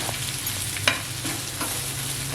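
Clam masala with coriander being stirred in a frying pan on a tawa, a steady close sizzle with soft scraping strokes and one sharper clink partway through, no voices.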